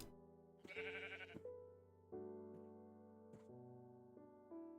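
Sheep bleating in Minecraft: a few clear, nasal bleats rising and falling one after another, alone with no talk.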